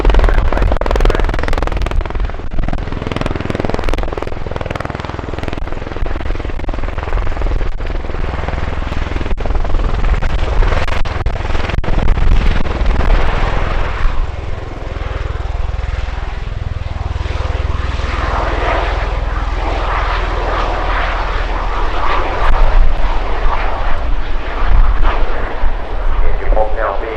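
A USAF CV-22B tiltrotor flies past at the RIAT airshow, a loud, sustained roar of engines and rotors with a deep, rumbling low end that swells and fades as it passes, and an announcer speaks over it.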